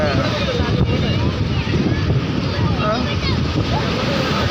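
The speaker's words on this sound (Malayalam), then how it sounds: "നമ്മൾ പ്രതീക്ഷിക്കാതെ വെള്ളം കയറിക്കൊണ്ടിരിക്കുകയാണ്" Waves surging in at Azhikkal beach, a constant loud roar of surf with wind buffeting the microphone and no break in the wash.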